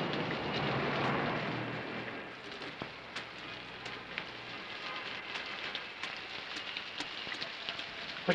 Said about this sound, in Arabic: خش خش خش من المطر.